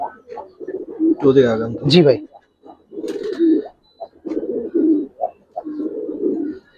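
Khaki pigeons coo in low, repeated bursts through most of the stretch, with someone talking briefly over the birds near the start.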